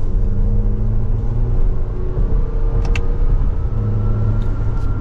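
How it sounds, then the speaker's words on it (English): A 2024 Toyota Grand Highlander 4WD Platinum's four-cylinder engine pulls hard in sport mode with manual shifting, heard from the cabin as a loud, steady droning hum with rising tones and a couple of faint clicks. "setting off now in the Grand Highlander, let's test out this four-cylinder"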